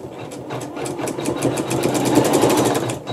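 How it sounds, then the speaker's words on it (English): A sewing machine stitching through a quilt block, a fast, even mechanical whir with rapid rhythmic needle clatter that builds slightly in speed, close and alone. "just hold it and let the machine stitch"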